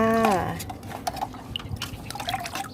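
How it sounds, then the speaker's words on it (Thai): Tamarind water poured into a bowl of rice-rinsing water, a brief splashing pour and trickle with dripping, heard close after a voice at the start. "เทลงไปในน้ำซาวข้าวเลยค่ะ"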